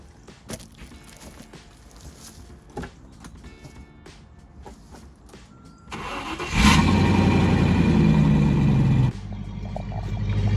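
A 1997 Land Rover Discovery 1 with a self-modified exhaust cranks and fires, then idles with a deep, loud rumble for a few seconds before it drops back, preceded by clicks and handling noises.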